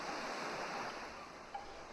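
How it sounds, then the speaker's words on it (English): Soft, steady rush of surf washing over pale gold sand on a sunny, warm beach, a continuous broadband wash with no voices, moderately quiet and even throughout. "The rush of the waves breaking back and forth over the soft pale gold sand"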